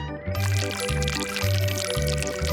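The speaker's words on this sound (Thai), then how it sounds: "ก่อนอื่นให้เทน้ำมันใส่กระทะ" Cooking oil pours into a frying pan in a cartoonish kitchen challenge, a bright liquid glugging and trickling set over a bouncy, repeating background tune with a steady beat.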